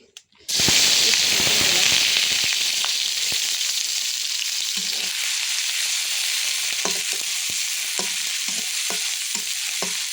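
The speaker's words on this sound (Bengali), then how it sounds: "একটু ভাজা হোক।" Hilsa fish sizzles steadily in hot oil with a loud continuous crackling hiss and occasional pops, starting abruptly after a brief quiet moment.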